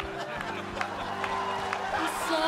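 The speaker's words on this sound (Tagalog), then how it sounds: "Palakpak!" Scattered audience clapping in a cooking lounge studio, a patchy burst of claps over background music and crowd murmur, continuing through the short span.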